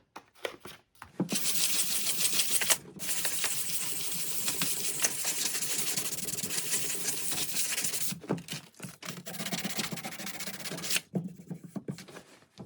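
Sanding rust off a knife blade with higher-grit abrasive: close, continuous scratchy rubbing in long bursts, broken by brief pauses, loud and alone.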